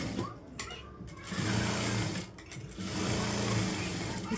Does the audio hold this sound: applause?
no